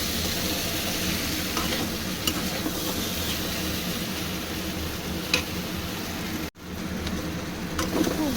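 Taro stolons and prawns sauté in a pan with a steady sizzling fry and repeated stirring scrapes, close and moderately loud, broken briefly by a short gap near the end.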